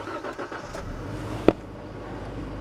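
A Suzuki Jimny engine cold-starts in snowy winter conditions, a close mechanical rumble with one sharp click-like burst midway before settling into a steady low idle.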